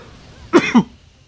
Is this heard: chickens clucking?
no